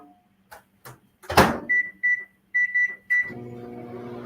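A 1000 watt microwave oven: a few clicks and a door thud, a series of short electronic beeps, then the oven's steady low hum starting up and running.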